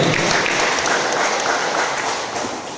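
An audience at a large Umrah seminar in a village hall gives dense, sustained applause that fills the room and fades slightly toward the end.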